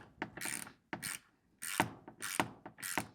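Bolts on a side mirror mount being tightened from the inside on a 2025 Yamaha RMAX4 1000 XT-R, heard as five short bursts of close, clicking ratchet sounds separated by brief pauses.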